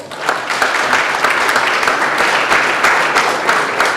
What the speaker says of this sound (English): Can you please give these gentlemen a round of applause?